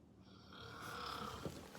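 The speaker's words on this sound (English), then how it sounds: "Oh, snoring again?" A person snores softly in one long, rasping breath, faint and close in a quiet room.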